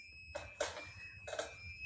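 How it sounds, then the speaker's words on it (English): An alarm inside a rural house sounds in several short bursts of beeping tones over a steady high electronic whine, fairly faint with no talking. "We have an alarm going off here."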